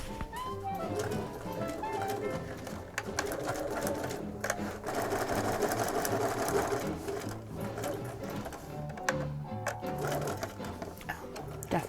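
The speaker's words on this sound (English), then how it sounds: "So my dilemma is I have to make sure I'm sewing over the very edge of the welt." A sewing machine stitches a welt on a rain cape in continuous rapid bursts with brief pauses, its mechanical clatter steady and close, with faint background talk.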